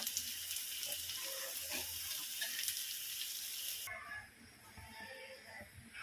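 A steady, hissing sizzle of cabbage frying in a pan for noodles, fairly faint and continuous, growing quieter and more crackly partway through as it settles.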